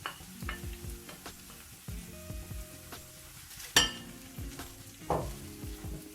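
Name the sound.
lentil dal ingredients stirred and sizzling in a pan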